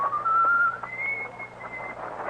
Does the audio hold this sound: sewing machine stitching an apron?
no